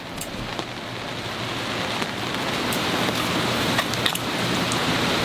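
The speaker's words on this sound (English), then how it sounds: "It started raining literally like 2 minutes after you left." Steady rain falls outdoors in Atlantic City in a dense, even hiss, with faint scattered drips throughout and no voices.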